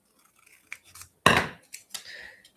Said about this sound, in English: I'm going to go ahead and cut this sticker in half.